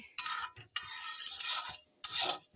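Mung dal dry-roasting in a pan without oil, with three or four quiet bursts of scraping and rustling as a spoon stirs it, separated by short pauses.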